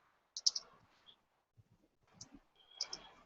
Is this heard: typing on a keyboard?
yes